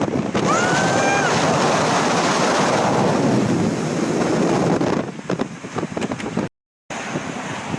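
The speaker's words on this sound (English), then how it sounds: "It is so windy up here." Strong, roaring wind on the Golden Gate Bridge in San Francisco buffets the microphone continuously, with a faint whistle early on and a brief dropout near the end.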